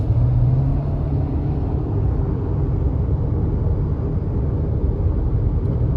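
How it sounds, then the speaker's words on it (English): A Nissan car with ProPilot Assist accelerates and eases off on the road, heard as a loud, steady low road rumble and engine drone from inside the cabin with no talking. "So if I touch the gas, it lets me accelerate"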